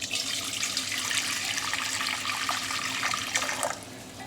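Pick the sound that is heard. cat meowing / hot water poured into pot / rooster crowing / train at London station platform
hot water poured into pot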